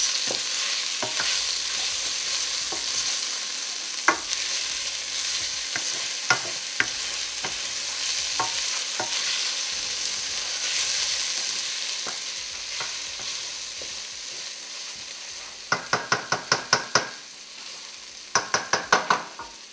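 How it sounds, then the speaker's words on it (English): Spices are stirred into sauteing vegetables in a pan for vegetable puffs, a continuous loud sizzle with scattered spoon scrapes, then two quick bursts of rapid clinking strokes near the end. "I'm going to mix it so then all the spices can mix in with the sauteing ingredients."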